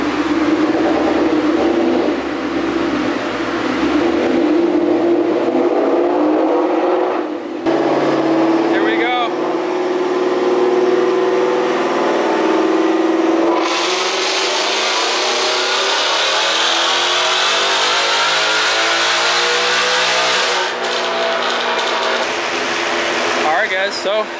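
A supercharged Ford Mustang GT roars on a dyno, idling and blipping before a long wide-open pull where the engine climbs steadily in pitch, loud and close with a rising supercharger whine.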